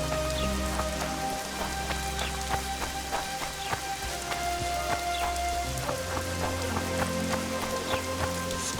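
Steady rain patters over a constant low ambient bed in The Witcher 2, with scattered sharper drops and splashes landing close by, heard alone without talk.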